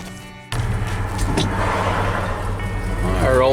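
A car on the road heard from inside, with a steady low engine and road rumble that starts abruptly and continues evenly, plus faint intermittent sounds over the drone.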